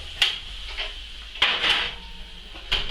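Metallic clunks and scrapes as a tray of honey-roasted parsnips slides onto a low shelf of a gas oven preheated to gas mark 7: a few separate knocks of metal on metal with quiet pauses between.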